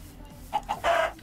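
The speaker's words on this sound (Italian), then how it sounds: "Pollo, dammi la tua carne" Chickens clucking in the Minecraft video game, a few short separate clucks followed by a longer louder squawk, close and clear against a quiet background.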